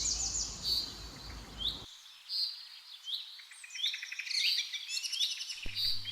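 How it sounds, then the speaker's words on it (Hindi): Birds chirp and tweet all around a quiet meditation retreat ashram, with many short, bright calls overlapping in a steady, lively chorus and no voices or traffic. "This place is in deep silence and it is surrounded by सिर्फ और सिर्फ चिड़ियों की चहचहाहट rather than the noise of the city traffic."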